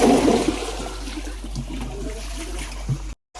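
Water splashing and rushing as boys wash a cattle water trough at a gaushala in Jasdan, a loud, steady close outdoor gush with a low hum that cuts off abruptly near the end.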